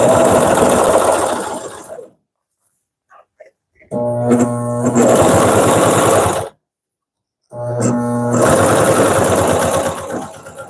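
A Consew CP206RL portable walking foot sewing machine top stitching, running in three loud close bursts of steady rhythmic needle chatter separated by pauses with faint handling clicks; no talking.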